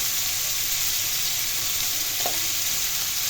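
Snake gourd with shrimp, salt and turmeric frying in a pan, giving a steady, even sizzle throughout, with one brief clink near the end.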